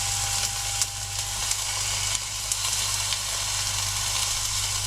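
A bass fillet frying skin-side down in a pan beside reducing wine gives a loud, steady sizzle with faint crackling pops and a low background hum, with no voices.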